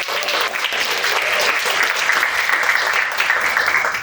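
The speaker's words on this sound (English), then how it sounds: "So please give them a huge round of applause." A conference audience applauds people stepping onto the stage at an AI education event, giving steady, full clapping from a large room that holds an even level from start to finish.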